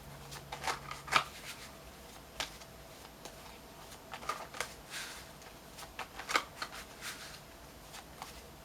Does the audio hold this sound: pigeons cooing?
no